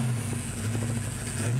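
A 1985 Ford Mustang Foxbody with 53,000 miles idling and revving nearby, a steady low engine rumble with a rising note near the end, heard from up close.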